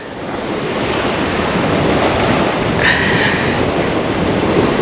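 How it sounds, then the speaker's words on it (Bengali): Strong wind roars steadily across the open island coast in the Sundarbans, a loud broadband rush with surf mixed in, continuous for the whole stretch with no voices. "বাতাসের এত তেজ রয়েছে"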